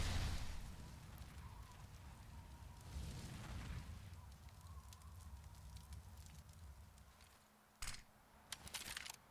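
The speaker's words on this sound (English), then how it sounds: "Incendiary right onto Automatic's feet." An incendiary grenade burns in Counter-Strike on the map Nuke, giving a low crackling, roaring fire that flares at the start and again near the end, faint overall.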